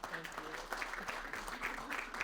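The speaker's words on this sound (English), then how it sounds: "Let's get a big round of applause." Sustained audience applause at a Black History celebration, dense clapping from a crowd, steady and fairly loud throughout with no break.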